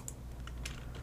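A single key press on a computer keyboard, the Enter key, during 3D modeling work in Maya 2019, giving a few crisp, close clicks over a low steady room hum.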